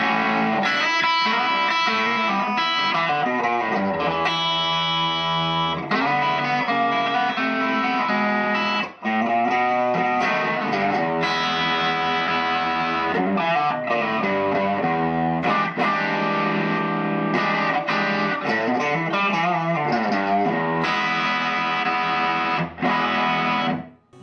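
A Suhr Pete Thorn Signature Standard HSS electric guitar played through distortion with the rear humbucker in parallel mode; thick, sustained chords and riffs ring out steadily and alone for over twenty seconds.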